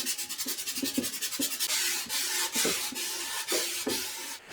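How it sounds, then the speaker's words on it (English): Hand sanding on a wooden guitar body gives rhythmic rubbing strokes, quick and regular at first, then longer, slower sweeps, close and clear with no talking. "Let's bring on the sanding."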